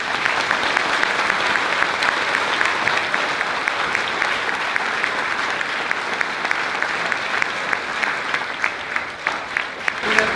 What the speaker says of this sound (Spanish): les damos un fuerte aplauso a todos nuestros sacerdotes.